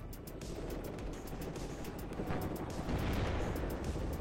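A Gazelle helicopter fires a HOT missile at a T-80 tank, heard as a steady, dense rumble of blasts and impacts with regular sharp cracks, loud and continuous throughout without speech.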